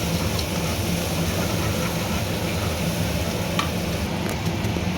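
Spice paste with ground spices and tomato frying in a pan, a steady close sizzle with a few soft stirring scrapes and no talking.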